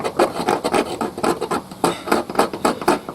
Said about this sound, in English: Now I'm using the edge to scrape rather than the back